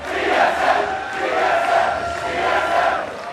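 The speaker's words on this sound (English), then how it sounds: "they're all yelling TSM" Large convention-hall crowd at PAX Prime 2013 esports regionals yelling and cheering for Team Solo Mid, a steady roaring wall of voices with rhythmic swells like a chant, loud and continuous throughout.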